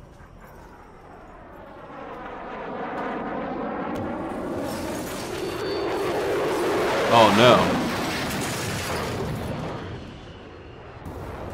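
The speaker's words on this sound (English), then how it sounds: "I just shot down a plane" An aircraft in The Forest survival game drones with a rising, wavering engine tone before a loud burst as it is shot down, all under a voice talking over the game.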